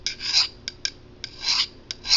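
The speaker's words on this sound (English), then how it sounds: "I'm going to be sharpening this knife." A knife blade is stroked across ceramic sharpening rods in a series of gritty, rasping passes, long scrapes mixed with short quick ones, close and clear with no talking.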